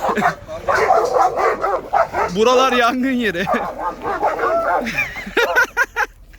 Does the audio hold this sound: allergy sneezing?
no